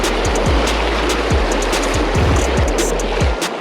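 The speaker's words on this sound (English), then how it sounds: "Oh, fair volume of water flowing through here." Water rushes steadily through a small spring creek, a continuous close hiss and burble with a few low thumps mixed in throughout.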